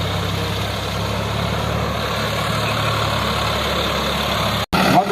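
Tractor engine idling steadily, a Sonalika Maharaja or Swaraj 744 FE, loud and close with a constant low rumble, cut briefly near the end before resuming.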